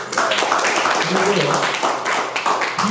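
An audience at a Korean presentation claps together in a dense, steady burst of applause lasting a few seconds, fairly close and even in loudness, with no pause.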